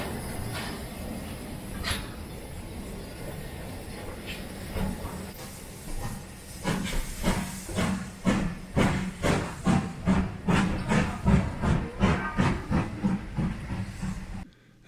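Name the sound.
steam train on North York Moors Railway at Grosmont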